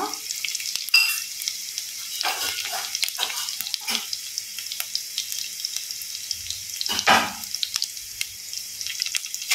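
Crushed garlic and cumin sizzle and fry in a pan of oil for a tomato chutney, with a steady close crackle, occasional stirring scrapes and a brief louder burst near the end.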